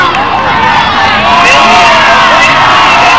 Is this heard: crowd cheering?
yes